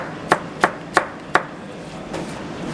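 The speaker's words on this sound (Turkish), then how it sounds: "domatesimiz, biberimiz var. Bunları böyle doğruyoruz önce" A knife chops tomatoes and peppers on a board in four crisp, evenly spaced strokes, followed by a couple of softer taps against a quiet background.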